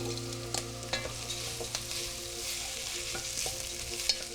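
Bacon for corn chowder sizzles in a pot alongside onions, a soft continuous frying hiss broken by occasional spoon taps and stirring scrapes, fairly quiet and close, with no voices.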